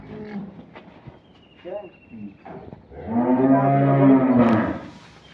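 A Holstein Friesian dairy cow at a Dinajpur livestock sale gives a loud, drawn-out moo in the second half, after some brief human talk and noises earlier.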